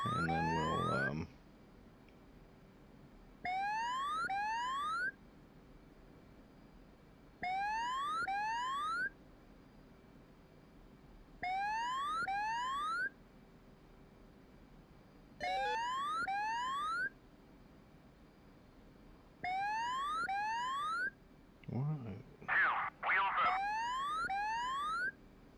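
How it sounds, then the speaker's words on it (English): Altitude warning alarm in the DCS flight simulator game, a loud repeating electronic chirp tone sounding about every four seconds over a low cockpit hum, with a brief burst of other noise near the end. "I'm not sure why I've got an alarm going off. Sounds like an altitude alarm"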